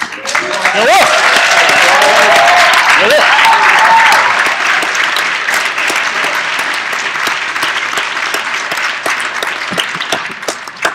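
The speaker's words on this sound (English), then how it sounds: "give Cynthia a round of applause" Loud, sustained applause from a large crowd fills the space, with a few whoops near the start, then gradually thins toward the end.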